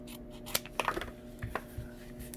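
Scissors snip through a plastic PET bottle in a few sharp, close cuts spread across a couple of seconds, with faint background noise.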